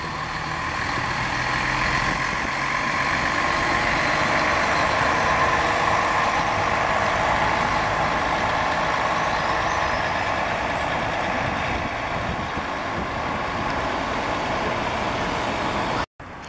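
Piracicabana bus with a Mascarello Roma body at a bus station, its diesel engine idling and humming steadily at moderate distance amid busy terminal noise, with a faint beep in the background.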